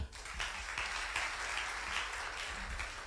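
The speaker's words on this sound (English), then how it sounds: "Oh, I'm sure we can do better with the applause." Audience applause in a hall at a Ghanaian high school debate, a steady wash of many hands clapping throughout, fairly even in level with no speech over it.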